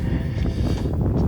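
Wind buffeting a camera gimbal outdoors at an active mud volcano site, a loud, continuous low rumble and roar with gusty swells and no talk.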